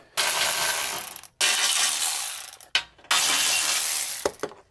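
A ratchet wrench backs out 3/8 bolts on a RAM 1500 5.7 HEMI engine, with three long bursts of fast, loud clicking separated by brief pauses and a few short clicks at the end.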